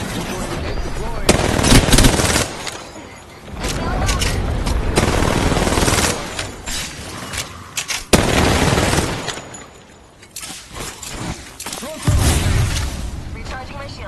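Gunfire in Apex Legends: sustained bursts of rapid automatic shots, loud and close, broken by brief pauses and reloads, with voices talking over the fighting.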